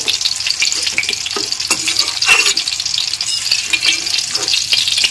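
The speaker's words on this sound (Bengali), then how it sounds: "বড়িটাকে একটু ভেজে নিতে হবে।" Steady, close sizzling of dried lentil dumplings (bori) frying in hot oil, with scattered crackles and pops throughout and no talking.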